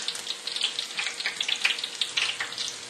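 Shrimp patties for a Chamorro dish fry in oil with a steady, crackling sizzle, close and fairly loud, bubbling continuously throughout without any voices.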